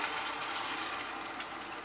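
Hot water pouring into a pan of small-potato curry, a steady broadband rush lasting about two seconds at moderate, even loudness with no voices.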